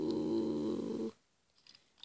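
A cat in the Minecraft video game purrs in a loud, close, steady rumble for about a second, then cuts off to near silence with a few faint clicks.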